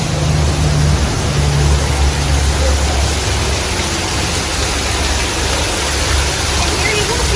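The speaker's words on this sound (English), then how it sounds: "they have this amazing walkway around it on the outside where you can go under a waterfall" Waterfall roaring beside an outdoor walkway at a pirate-themed mini golf course, a loud steady rushing wash of falling water filling the whole stretch with a low rumble beneath.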